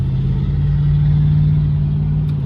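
A $2,000 beater car's engine hums steadily while accelerating on the road, a loud, low, continuous drone recorded from inside the cabin with no talking.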